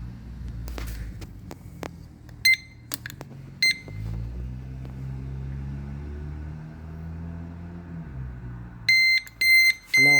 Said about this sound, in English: Now you can hear a long beep, so it means that this has been reset to the factory setting